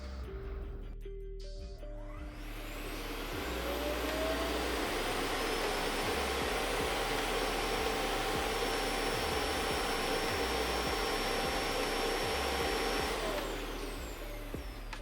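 A Proscenic M7 Pro robot vacuum cleaner roars up to a loud, steady whine like a jet, holding at full power before winding down near the end, with no talking.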